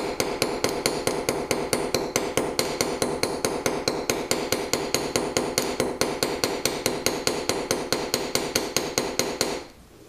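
A hammer taps steadily and rapidly on a decorative tube rivet being set, dozens of evenly spaced sharp metallic strikes close by, stopping abruptly at the end.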